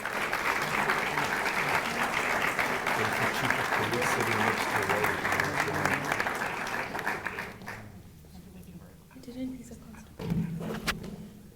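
An audience at a back-to-school kickoff event applauds a Costco Wholesale representative, dense clapping mixed with crowd voices for several seconds before dying away, followed by a voice over the sparse remaining claps.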